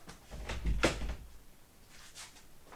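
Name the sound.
door being closed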